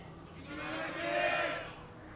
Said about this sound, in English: Bunch of fans in the audience cheering for Life